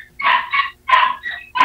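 A dog barks close by in quick, sharp yaps, four short bursts in under two seconds, loud and alone without talk.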